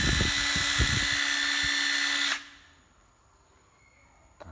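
An old Japanese-market cordless drill whirs at high speed with a loud steady whine and a few clicks, then is released and spins down to quiet.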